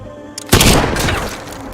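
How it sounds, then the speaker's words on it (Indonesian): A single loud rifle gunshot cracks close by, its blast ringing out into a long, decaying rumble against a quiet background. "suara tembakan tersebut"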